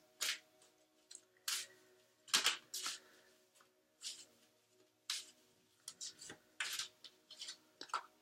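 Oracle cards from Colette Baron Reid's Wisdom of the Hidden Realms deck are shuffled and pulled, giving quiet, close, irregular riffling slides and soft paper snaps, alone in a hushed room.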